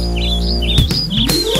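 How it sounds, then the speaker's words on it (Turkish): Bright, repeated bird chirps ring out in a Turkish children's counting song about little birds, sitting over steady musical tones, with a few louder plucked or struck notes joining midway. "Aldım onları içeriye, cik cik cik ötsünler diye."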